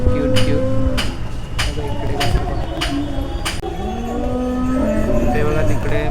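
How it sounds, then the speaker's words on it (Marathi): Buffaloes and cattle low with long, drawn-out moos at the Chiplun agricultural fair in Konkan, several calls over a busy crowd murmur with sharp clicks at intervals. "ते बघा, तिकडे म्हशी वगैरे पण आहेत."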